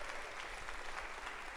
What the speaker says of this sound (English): another round of applause for all their work that they've done